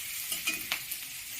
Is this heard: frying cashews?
yes